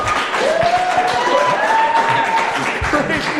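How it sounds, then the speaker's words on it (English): A comedy club audience applauds a stand-up comedian, with steady clapping and a few whoops, while a host's voice speaks over it. "one more round of applause for Mr. Ryan Short"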